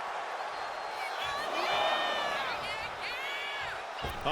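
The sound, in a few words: crowd cheering in WWE 2K25 video game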